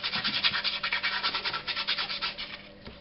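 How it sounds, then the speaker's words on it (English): A nail file rubs back and forth in a light sanding action, giving a steady run of quick, close scratchy strokes with no talking. "Just want to give it a light sand."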